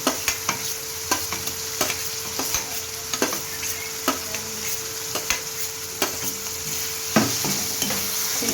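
Capsicum frying in butter and oil for pav bhaji, with a constant sizzle under regular spatula scrapes and taps against the pan, close and clear, repeating about every half second to second, no talk.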